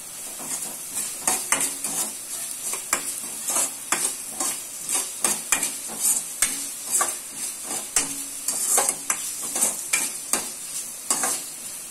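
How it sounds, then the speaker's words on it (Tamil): Ginger garlic paste frying with onions in a pan for a Tamil mushroom pepper dish: a loud, steady sizzle broken by frequent rhythmic scrapes and clinks of a spoon stirring against the pan, with no voices. "அரைச்சி வச்ச இஞ்சி பூண்டு விழுதை இதோடு சேர்த்து ஃப்ரை பண்ணி எடுத்துக்கிறேன்."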